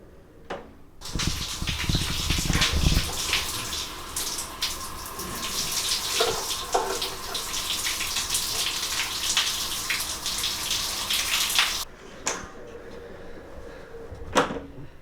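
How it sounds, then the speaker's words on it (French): A shower runs with a loud, continuous hiss of spraying water for most of the stretch, then stops abruptly, leaving a few knocks and bangs in the quiet afterward. "Et j'ai fini ma douche"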